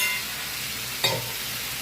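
Maggi noodles are stirred on a hot tawa in street-style cooking, a soft continuous sizzle with one brief scrape of a spoon midway, close up and without talk.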